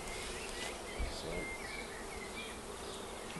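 Dark bees buzz steadily at a bait hive with frames of freshly drawn foundation, a dense, continuous hum close by that holds an even level throughout.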